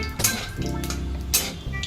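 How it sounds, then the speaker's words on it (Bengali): Nigella seeds and a dried red chili tempering in hot oil for a mustard pomfret curry, giving a steady low sizzle with a few sharp clinks of a metal spoon against the pan. "ফোড়নটা একটু ভাজা ভাজা করে নিচ্ছি"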